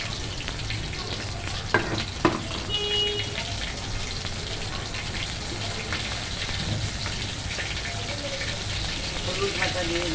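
Mustard paste added to a hot pan, crackling and sizzling steadily with a couple of sharp clatters early on, close and continuous.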